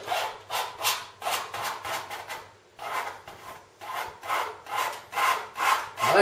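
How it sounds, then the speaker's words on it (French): A painting knife scraping thick paint across canvas in a sunset knife-painting lesson, a run of about a dozen rhythmic rasping strokes, close and moderately loud, with no voices. "je gratte la pâte pour éviter"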